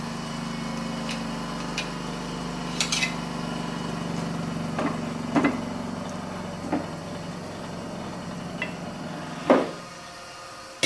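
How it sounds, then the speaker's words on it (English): A grinder wheel runs steadily through a sharpening job, giving a close, constant motor hum broken by several brief sharp clicks and taps, then spinning down near the end. "turn on the grinder wheel"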